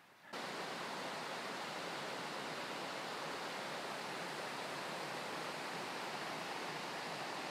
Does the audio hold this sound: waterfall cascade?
yes